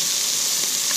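Whiting fillets fry in a pan with a loud, steady, close-up sizzling hiss for a short moment and no voices.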